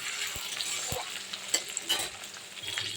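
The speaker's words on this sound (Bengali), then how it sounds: "পেঁয়াজটা দেখি লাল ভাজা হয়ে গেছে" Onions fry in a pan for goat meat curry, sizzling close up while a spoon stirs with a few sharp scraping knocks against the pan.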